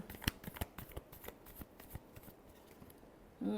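Tarot cards shuffled close by, a burst of crisp riffling flicks and soft slaps in irregular quick rhythm, thinning out toward the end.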